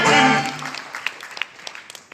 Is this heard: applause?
yes